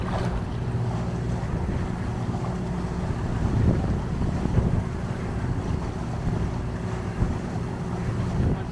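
Steady northerly wind on an old sailing boat heading upwind, with a continuous rushing roar of wind over the microphone and water sloshing against the hull throughout, loud and close, with no talk.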